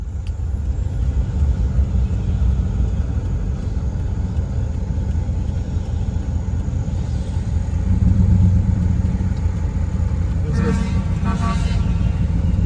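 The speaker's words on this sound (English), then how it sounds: "Coming home, my dad blowing the air horn." Steady engine rumble from a moving truck, then a short truck air horn blast sounds near the end, somewhat distant.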